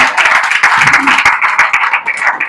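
Applause from a church congregation clapping together, a dense, steady patter of many hands sustained loudly and close throughout, with no break.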